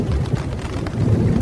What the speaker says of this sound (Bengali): বৃষ্টির টিপটিপ শব্দের মাঝে জলের কলকলানি শব্দ।